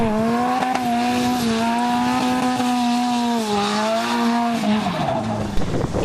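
A drift car at a 2006 drift competition coming in too hard on a reverse course, its engine droning steadily while the tires squeal in a long sustained howl as it spins backwards off the track, loud and close.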